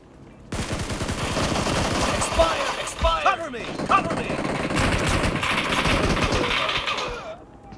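Rapid bursts of automatic gunfire crackle from a mobile shooter game played on a Huawei Mate 40 or Xiaomi Mi 11, loud and close, mixed with in-game effects and voices.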